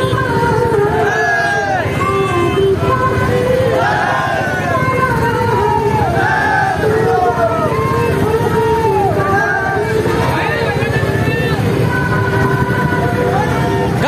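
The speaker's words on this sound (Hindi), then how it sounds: "गाइस भीड़ चेक करो" Dense crowd hubbub at an Independence Day youth bike rally in Pithoragarh, Uttarakhand, with hundreds of bikers: constant babble of many voices over running motorbike engines and a low rumble, loud and close, shouted calls rising above.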